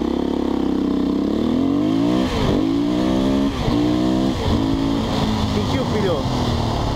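Husqvarna 510 SMR supermoto motorcycle revving hard and accelerating up through the gears, with rising engine pitch dropping at each of several shifts, loud and close, with someone speaking over it.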